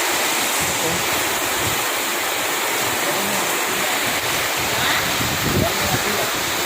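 Strong typhoon wind roars in a steady, dense rush that never lets up, close and loud, with faint voices now and then beneath it.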